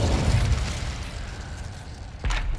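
Incendio fire spell in Hogwarts Legacy bursts out as a loud, rumbling whoosh of flame, followed by a second sharp flare near the end.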